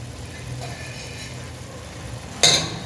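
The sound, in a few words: stirring boiled potato and mutton in a pan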